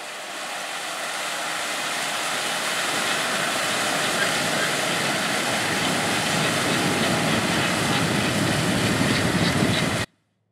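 A Caterpillar Challenger 55 rubber track tractor working in a field gives a loud, steady mechanical roar that builds over the first seconds, holds for about ten seconds, then cuts off abruptly.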